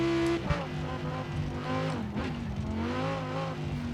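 A tuned rear-wheel-drive car set up for S1 racing in Forza Horizon 4, its engine revving loudly and continuously with rising and falling pitch through gear changes, with brief tire noise.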